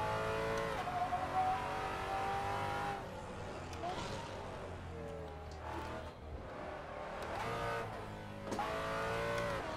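A race car engine in the Assetto Corsa driving game revs and accelerates in rising sweeps, dropping between gear changes, moderately loud and continuous throughout.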